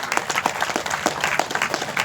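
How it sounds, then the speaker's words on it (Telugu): An audience at a speech event applauds a film, dense overlapping hand claps from a crowd filling the whole moment, fairly loud and steady with no break. "మరి ఇంకొకసారి ఆ సినిమాకి గట్టిగా క్లాప్ చేద్దామండి"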